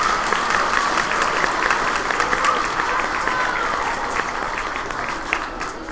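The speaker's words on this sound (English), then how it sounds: "Can we all give them a round of applause?" An audience claps for spelling bee contestants at a school competition, a steady wash of applause from a moderately distant crowd lasting several seconds.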